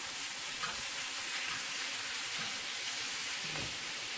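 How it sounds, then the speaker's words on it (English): Steak sizzling in a hot pan while being basted, a dense continuous crackle with faint scraping touches, fairly close and steady, no voices. "basting all the steak"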